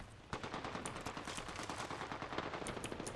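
Rapid automatic gunfire in the video game Apex Legends, a steady stream of sharp shots in quick succession, fairly faint and continuous for about three seconds.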